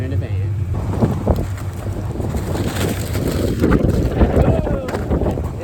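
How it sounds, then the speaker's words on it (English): Gusty wind buffets the microphone with low rumbling bursts and rustles, rising and falling throughout. "Oh, it's a windy one today."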